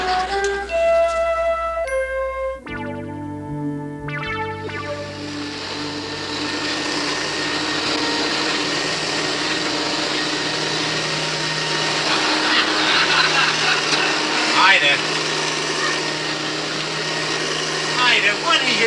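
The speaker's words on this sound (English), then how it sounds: "I'm vacuuming the rug." A vacuum cleaner starts up and runs steadily on a rug, a loud whining motor drone that holds its pitch after brief musical notes at the start.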